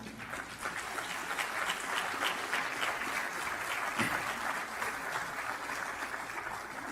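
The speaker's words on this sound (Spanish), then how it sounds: "Denle un aplauso al Señor." Church congregation applauding steadily during a Spanish-language sermon, a dense, even wash of many hands clapping that holds at a constant level for several seconds without voices on top.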